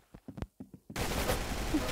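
Gunfire from the Roblox shooter Arsenal: a handful of quick separate shots, then a minigun opens up in a dense, continuous roaring burst that carries on to the end.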